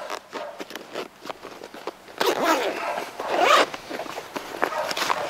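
Zipper pulled along a pocket of a Full Forge Gear Hurricane backpack, a rough, scratchy rasp swelling in two close bursts over faint handling noise, no talk.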